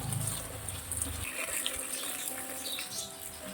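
Water is poured onto potted garden plants in summer: a faint, steady trickle and splash, with a low rumble under the first second or so.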